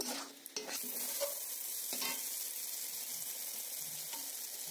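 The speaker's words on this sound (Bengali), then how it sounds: "গাওয়া ঘি ২ চামচ দিয়ে দিলাম, দিয়ে বেশ ভালো করে একসঙ্গে কষিয়ে নেব" Chicken masala cooking in two spoons of ghee, a soft steady sizzle with a few stirring scrapes near the start, close but fairly quiet, no speech.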